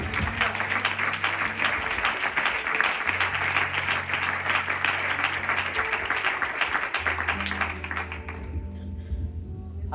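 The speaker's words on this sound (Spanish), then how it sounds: "Y denle un aplauso al Señor, por favor." A church congregation applauds during a Spanish-language sermon, with loud, dense clapping sustained over steady tonal music before it tapers off near the end.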